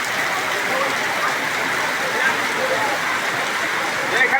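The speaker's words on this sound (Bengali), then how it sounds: "দেখেন প্রচুর বৃষ্টি হচ্ছে, প্রচুর বৃষ্টি, অনেক অনেক বৃষ্টি" Heavy rain pours steadily on a road in Bangladesh, a dense, continuous hiss close by and loud throughout, with no gaps or let-up.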